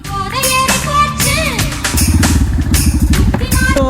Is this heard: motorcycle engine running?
yes